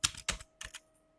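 Computer keyboard keys tapped in a quick burst of four or five close clicks, quiet and crisp, then a brief pause.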